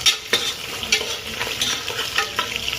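Peanuts frying with ginger garlic paste in a pan, stirred with a spatula in repeated close scraping strokes over a continuous sizzle.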